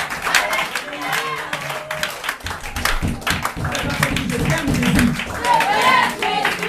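An audience claps steadily through a church Bible-game prize ceremony, with speech over the applause.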